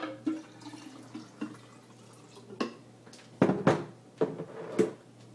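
Fresh homemade coconut milk is poured into a jar, giving soft trickling and splashing with a few louder sloshes near the end, close and quiet, with no talking.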